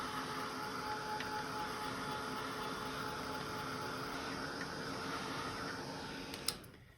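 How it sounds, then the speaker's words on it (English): A heat tool runs steadily while heat-setting gel pen ink on a faux copper patina card, a constant whooshing fan drone at moderate distance that ends with a small click. "Now I'm just going to heat set"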